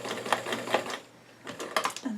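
A sewing machine top stitching small doll jeans, running in quick rhythmic bursts with a short pause in between, a voice speaking over it.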